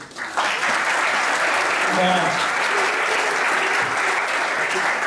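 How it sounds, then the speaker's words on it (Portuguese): A church congregation at a missionary conference applauds one another, steady broadband clapping filling the room for several seconds, with a voice briefly heard over it. "a gente poderia nos aplaudirmos mutuamente aqui?"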